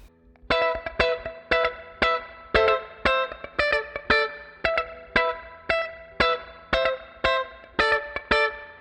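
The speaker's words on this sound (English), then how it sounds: "It's doing some really cool, funky, disco-y sort of strumming." A second guitar part plays funky, disco-style strumming for a song: crisp, percussive chord stabs in a steady rhythmic pattern, heard alone and close with a light effects tone.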